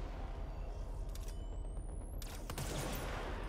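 Gunfire in the supernatural shooter video game Control, a quick cluster of sharp shots, then a louder blast followed by a high zipping streak, all faint over steady game ambience.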